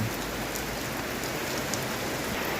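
Heavy rain pours down in a forest, a dense, steady hiss of drops striking leaves and ground close by, constant throughout with no voices.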